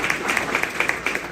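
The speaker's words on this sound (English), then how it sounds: "thank you very much for showing all of us a round of applause" An audience at a gathering in Edison, New Jersey, gives a round of applause, a dense patter of clapping with a few sharper claps standing out near the listener, steady for the whole moment with no speech.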